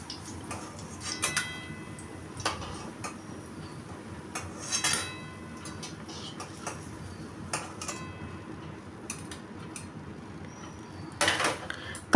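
Fried pointed gourds (kakrol) are lifted one by one out of a pan of oil, with scattered metal utensil clinks and scrapes against the pan over a quiet background.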